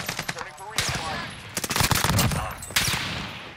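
Rapid automatic rifle fire from a Call of Duty: Warzone match, several loud bursts of close machine-gun shots with short gaps between them, alongside faint speech.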